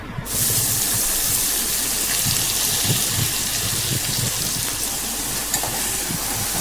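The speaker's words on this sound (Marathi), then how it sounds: "आता ही मटकी मी पातेल्यामध्ये ओतून घेते" Sprouted moth beans are poured into a hot pan with tempering and sautéed, setting off a sudden loud, dense sizzle that holds steady throughout, with occasional light knocks.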